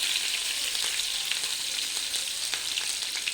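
Green chillies dropped into hot oil in a pan for egg bhurji, a bright continuous sizzle and crackle with small pops, close and steady, no voices.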